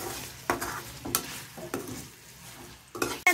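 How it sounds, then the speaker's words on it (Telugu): Chicken hearts frying with spring onions in a pan, stirred with a utensil: soft scraping and clinking strokes over a faint, steady sizzle, close and fairly quiet. "వేసుకొని బాగా కలుపుదాం."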